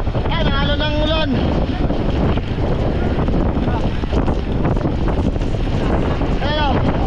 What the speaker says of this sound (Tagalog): Ang lakas na talaga ng alon.